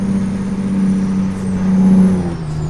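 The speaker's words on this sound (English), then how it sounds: "This definitely has a Detroit 6V92. Great engine. Love that engine." A loud, steady Detroit 6V92 truck diesel engine in American Truck Simulator drones with a deep rumble, pitch shifting slightly as it pulls, heard continuously and up close.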